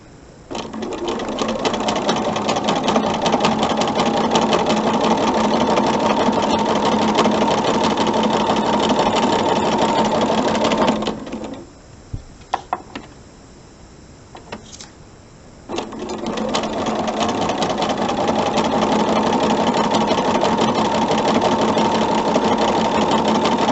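A sewing machine stitching half square triangle quilt pieces, a loud, fast, even mechanical whirr running for about ten seconds, a pause with a few clicks, then another long steady run of stitching.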